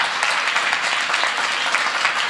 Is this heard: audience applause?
yes